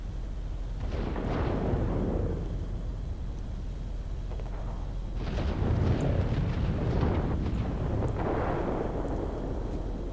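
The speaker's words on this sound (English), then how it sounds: "Bombs away, all towards the centre." Bombs from an RB-17 Russian bomber burst in a video game, a series of deep rumbling explosions rolling in waves, two broad blasts swelling and fading over several seconds with no voices.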